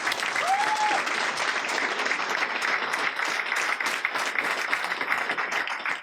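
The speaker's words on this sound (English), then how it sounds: "let's give him a round of applause" Steady, sustained crowd applause for candidate Keith Hallam at a UKIP political event in Bolton, even and unbroken for the whole stretch, with a brief voice at the start.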